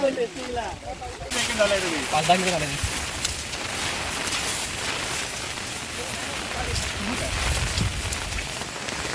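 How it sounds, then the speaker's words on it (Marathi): Heavy monsoon rain pours steadily with a dense patter on a trek to Mahimatgad fort, Ratnagiri, Konkan, and a person talks briefly over it at the start. "पावसाने देखील जोर पकडला आहे"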